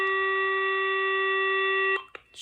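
A VTech 5831 5.8GHz cordless phone rings with a loud, steady electronic tone, holding one shrill note for about two seconds, then cuts off, followed by a couple of faint clicks.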